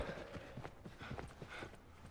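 Horse hooves clip-clop in The Last of Us video game, a quick irregular run of soft close hoofbeats on the ground, faint and steady with no talk.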